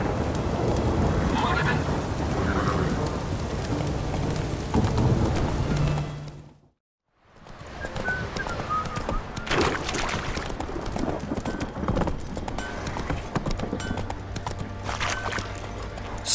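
Hooves clip-clop steadily from a horse in the Witcher 3 video game, with whinnying and a rainy, thundery ambience; someone speaks over it and the sound cuts out briefly partway.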